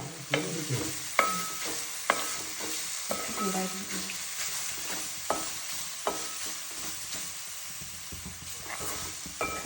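Ground coconut paste fries and sizzles in a pan for a home-style tender jackfruit thoran while a spoon stirs it, with a steady hiss broken by several sharp scrapes and knocks up close.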